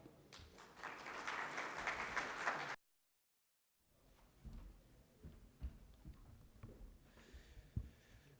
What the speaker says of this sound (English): Let's give a round of applause to Thao.